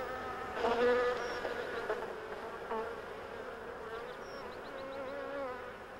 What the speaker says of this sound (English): bees were brought over to pollinate the trees and sweeten a life of hardship